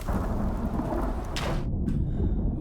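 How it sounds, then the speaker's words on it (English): Thunder from a lightning strike in the survival game Icarus, rolling over steady heavy rain, loud and close, with the rumble swelling and then cutting off abruptly. "I just got struck by lightning."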